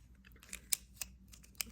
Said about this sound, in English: I'm just gonna cut about a 5-inch piece